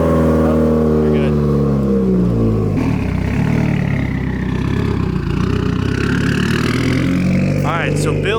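A Subaru WRX running on E85 ethanol fuel starts and idles with a steady low engine drone, then revs up with rising harmonic sweeps. People talk nearby throughout.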